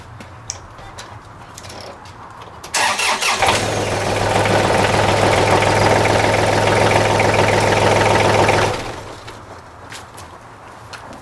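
A John Deere tractor's diesel engine cranks and fires, then runs loud at a steady rumbling idle for several seconds before shutting off, leaving quiet background.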